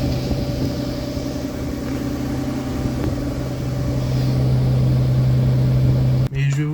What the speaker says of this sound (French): La voiture tourne.